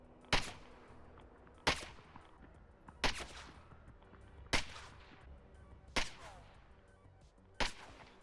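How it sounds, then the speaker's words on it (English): Six suppressed gunshots from a Whisper Tactical suppressor in a video game, sharp muffled cracks spaced evenly about one and a half seconds apart, each with a short tail. "Now let's listen to the Whisper Tactical."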